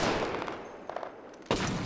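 Weapon fire in the battle royale game Apex Legends, with a few sharp shots spaced through a steady wash of game noise and a louder burst near the end.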